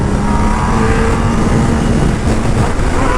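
A 1000cc motorcycle on a highway, its engine running loud and steady as the rider shifts up through the gears, with the engine drone and wind noise right up close and no talk.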